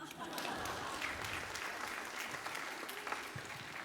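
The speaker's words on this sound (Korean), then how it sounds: "우리 김상 수고하셨는데 박수 칠 때 내려가 주세요." Applause from a church congregation at a Friday prayer service, a steady moderate clatter of clapping lasting several seconds with no speech over it.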